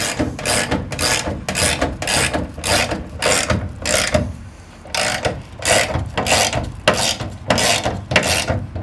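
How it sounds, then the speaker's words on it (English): A socket wrench ratchets a bolt on the front of a storage shelf beam, loud, close bursts of clicking repeating about twice a second with a short pause midway. "And you use your socket on the front of the beam."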